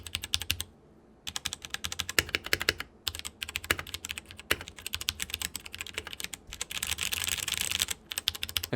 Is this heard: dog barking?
no